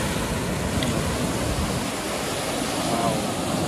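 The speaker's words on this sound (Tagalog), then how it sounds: "Laki ng mga alon, oh." Big ocean waves at Torrevieja beach, a constant roaring wash of surf, loud and close, with possible wind mixed in.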